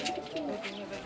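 Pigeons coo softly on a rooftop at home, a few low rounded calls overlapping in a short, steady burst at moderate distance with no talking.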